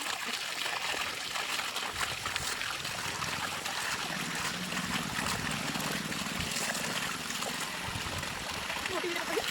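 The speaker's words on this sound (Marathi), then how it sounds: "हे बघा कॉक चालू केला की असं पाणी येतं." Water gushes steadily from an opened tap on a farm, a continuous splashing flow running the whole time while people talk nearby.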